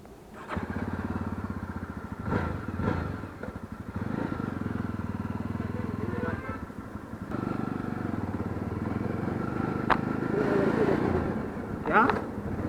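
Jawa 42 motorcycle engine running and pulling away, a steady low throb that rises and falls with some clatter, with people talking over it.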